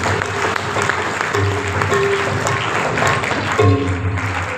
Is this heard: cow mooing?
no